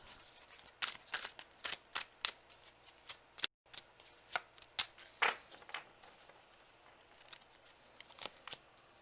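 Tarot cards shuffled by hand, with a run of crisp close riffles and snaps, irregular bursts separated by short pauses, quiet and without talk.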